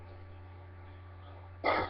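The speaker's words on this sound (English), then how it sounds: "As you can hear, I'm still coughing" A person with a cold lets out a single short, close cough at the very end, after a stretch of faint steady hum.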